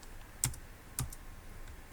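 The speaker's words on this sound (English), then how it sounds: "Let me go to my CSS and then type in the" Two sharp keystrokes on a computer keyboard while CSS code is typed, spaced about half a second apart, faint and close, with no talking.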